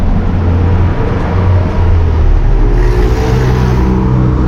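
Heavy vehicles rumble past on a street in Merida, Yucatan, a continuous loud low engine drone with traffic noise swelling and fading, no voices.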